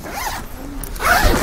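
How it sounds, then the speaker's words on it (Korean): Zipper pulled open along the fabric of an iKamper Skycamp 3.0 mini rooftop tent mounted on a Tucson ix, a close, continuous rasping run lasting about a second with a louder burst near the end. "지퍼를 열면은"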